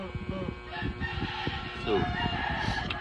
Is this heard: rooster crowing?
yes